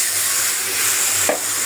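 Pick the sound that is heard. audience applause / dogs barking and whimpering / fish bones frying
fish bones frying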